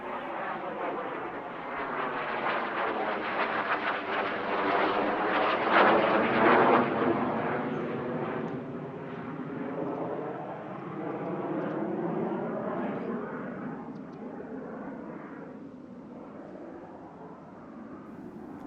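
A North American Sabre swept-wing jet passes at the Duxford Battle of Britain Airshow, its engine a broad roar that swells to a peak near the middle and then slowly fades as it moves away.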